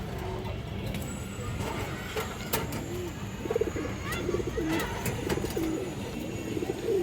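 Several Khoiragola-breed female pigeons coo softly and repeatedly at close range, with low rolling calls layered over a steady background and faint scattered clicks.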